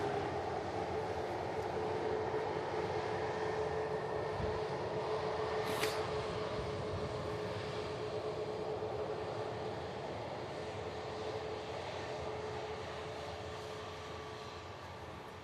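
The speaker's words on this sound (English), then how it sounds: "The Lufthansa arriving in from Frankfurt." A Lufthansa airliner arriving from Frankfurt at Manchester Airport gives off a steady, broad jet roar that holds fairly loud and even, then eases slightly toward the end, heard from a distance.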